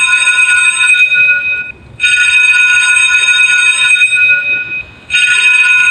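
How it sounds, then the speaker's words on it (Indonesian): A school bell driven by an Arduino Uno rings loudly in long electronic tonal bursts, sounding three times with short gaps between, close and alone without talk. "Belnya sudah berbunyi."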